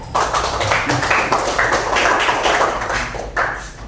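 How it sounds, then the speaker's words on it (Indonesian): A classroom of students applauds student group 3 for several seconds, with steady, dense clapping at close range. "aplaus untuk kelompok 3"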